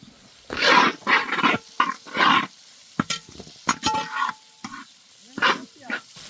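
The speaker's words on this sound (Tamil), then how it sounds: "அடுத்தது வெங்காயம் சேர்த்து நல்லா வதக்கணும்" Chopped onions sautéing in oil in a pan while making quail cashew pepper thokku, with bursts of sizzling and stirring scrapes that come and go in uneven clusters, close and fairly loud, with no talk over them.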